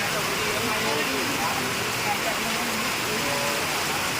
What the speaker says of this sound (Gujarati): ધોધમાર વરસાદ ચાલુ થઈ ગયો છે.